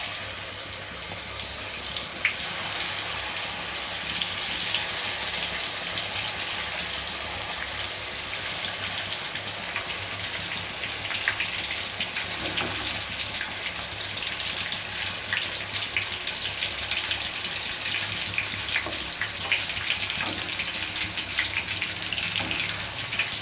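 Marinated chicken fries in hot oil with tempered spices for Moghlai chicken, giving a continuous, even hiss and crackle that stays close and fairly quiet throughout, with no talking.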